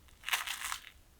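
A crispy fried kachori snack snapped apart by hand, giving a short, close burst of dry crunching and crackling over about a second.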